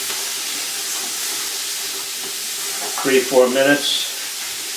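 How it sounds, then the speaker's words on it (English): Carrots and celery sautéing in a soup pot, a steady soft hiss of frying running underneath, with a brief stretch of speech over it toward the end. "I'm going to saute that down"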